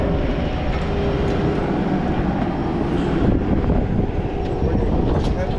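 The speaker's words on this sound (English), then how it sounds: "I haven't ridden on a small plane like this in a long time." Small propeller plane engine droning steadily in flight on an inter-island hop to Molokai, Hawaii, a loud, continuous broadband roar with airy rumble throughout.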